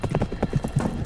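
A galloping war horse in an audiobook scene pounds out quick, rhythmic hoofbeats, close and clear, in a brief burst of about a second.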